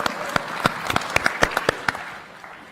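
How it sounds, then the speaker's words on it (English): Scattered clapping from a conference audience in Edinburgh: a dozen or so distinct, sharp claps in a loose irregular rhythm, thinning out and fading toward the end. "If you're Scottish, give yourself a clap."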